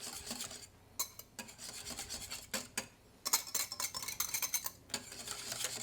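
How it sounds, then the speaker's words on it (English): Egg yolk being mixed into a light baked cheesecake batter, a utensil scraping and rasping against a bowl in quick irregular strokes with brief pauses, close and fairly quiet. "and mix it"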